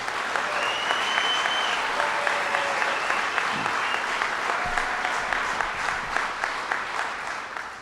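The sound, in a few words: applause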